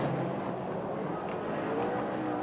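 Rallycross cars racing, a hand-throttle Chevrolet and a little Vauxhall Nova among them, with a steady dense engine roar and hiss filling the whole stretch.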